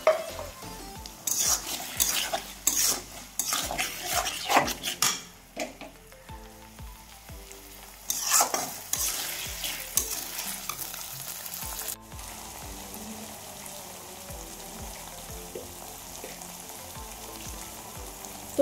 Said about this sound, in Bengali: তো এবার আমার টমেটো কোচানো রেখেছিলাম, আমার কুটিয়ে রেখেছিলাম, তো সেগুলো দিয়ে দেবো।